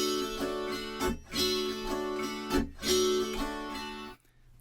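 Kantele strummed in an early-beat-2 Swedish polska rhythm, bright chiming chords with recurring accented strokes and palm-damped pauses, close and clear, ending in a short silence.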